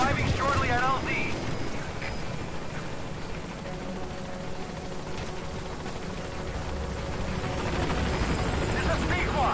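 The Pequod helicopter arriving at a landing zone in Metal Gear Solid V: The Phantom Pain, its rotor and engine a constant loud drone heard under talk throughout.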